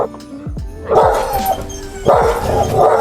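A dog bursts into repeated barking at a squirrel outdoors at an RV campground, sharp close barks in two clusters with a brief yip between, loud and without talk.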